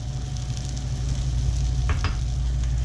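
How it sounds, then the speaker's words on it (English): Mushrooms stir-fry in hot olive oil, giving a steady close sizzle with a couple of brief scraping stirs partway through, and no talking. "Then we're going to stir fry the mushrooms."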